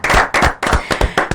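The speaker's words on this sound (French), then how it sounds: "Je vous demande d'applaudir très très fort pour Azaya." Hands clapping loudly in a handful of sharp bursts as a live show audience applauds a guest's entrance.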